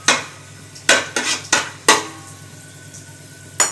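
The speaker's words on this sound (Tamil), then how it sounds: "சேர்த்து லைட்டாக கிளறி விட்டுருங்க." A spoon knocks and scrapes against a metal cooking pot as bay leaves and star anise are lightly stirred, several sharp clanks in an uneven rhythm, close and clear with no talk.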